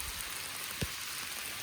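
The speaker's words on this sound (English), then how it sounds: "you can see it's really hailing. Oh my gosh, look at that. It just started pouring." Heavy rain and hail pour down outdoors in Pennsylvania woods, a dense, steady hiss of falling drops and pellets filling the air, with one brief low thump partway through and no voices.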